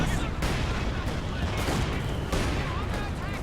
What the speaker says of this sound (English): he's taking mortar fire there